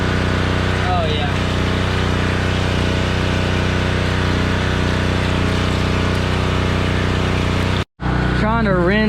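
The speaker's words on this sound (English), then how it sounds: "Trying to rinse as much mud as I can out of here" A pressure washer sprays steadily on a mud-caked Caterpillar skid steer, a continuous hissing rush with a constant pump drone, cut off briefly near the end before resuming.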